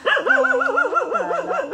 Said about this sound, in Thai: คนเดินให้หมาเห่า